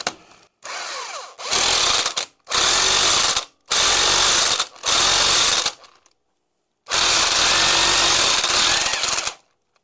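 A power tool drives down the bolt on the primary pulley of a 1972 Harley XLCH Ironhead motorcycle in loud rattling bursts. There are five short bursts with gaps, then one longer final run, close up and with no talking.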